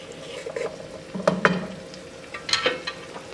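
A spoon stirs flour quickly into a pot of melted butter for a chicken mac and cheese sauce, giving soft scraping and light sizzling with a few clinks against the pot, close and alone.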